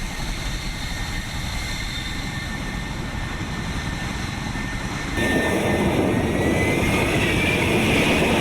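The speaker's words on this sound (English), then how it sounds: "The jet's thrust is impressive" A jet aircraft engine roars with steady thrust, a broad continuous rumble and hiss that swells noticeably louder partway through, with no voices.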